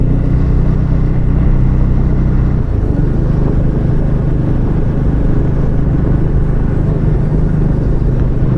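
A Triumph Speed 400 single-cylinder motorcycle pulls steadily at low revs on the road, its engine a loud, continuous close rumble with wind noise throughout and no voices.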